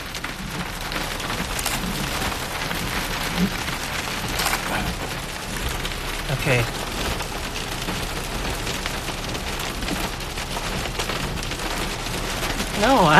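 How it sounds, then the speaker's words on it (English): Dense, steady pattering of hail drumming on a car roof during a thunderstorm near Stockton, California, continuous and loud throughout, with a brief spoken word near the end. "this is like a stationary hailstorm."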